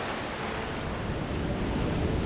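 Ocean surf breaks along a rocky African coastline, a dense, steady roar of waves with wind buffeting throughout, loud and continuous with no voices.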